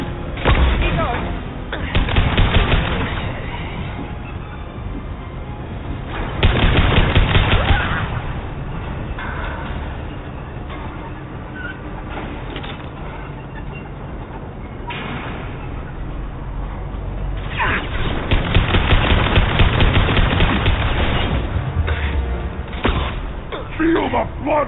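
Bursts of heavy gunfire and booming blasts in a video game, loud and dense, surging in several waves over a constant battle din, with voices calling out amid the shooting.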